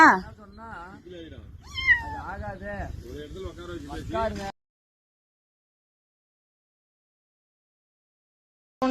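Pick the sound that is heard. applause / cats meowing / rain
cats meowing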